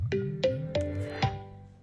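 A Bluetooth speaker powers on with a short tonal chime of four rising electronic notes, fairly loud and close, each note ringing briefly with a bright harmonic tone.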